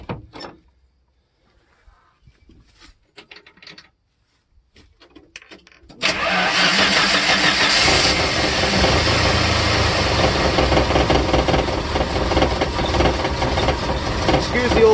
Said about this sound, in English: what we're going to do is start the truck off.